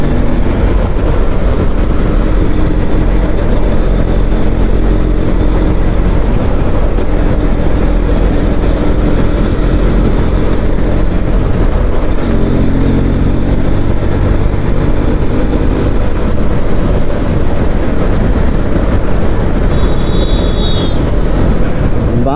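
Bajaj Pulsar NS200 motorcycle riding on a road on a new Michelin front tyre, a steady loud engine and road rumble with wind noise continuing throughout.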